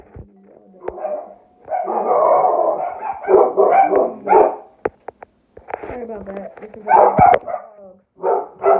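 Dogs bark and yelp in loud bursts, close by, while a person speaks briefly between the barking.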